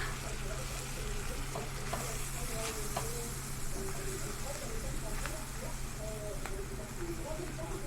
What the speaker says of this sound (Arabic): نحمرهم في النص كده مع الزبدة لحد بس ما ريحتهم، ريحة الدقيق تروح